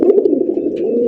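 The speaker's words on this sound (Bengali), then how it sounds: "এটা হচ্ছে নর কবুতর।" A male pigeon coos up close, one loud, continuous throaty coo that wavers slightly in pitch.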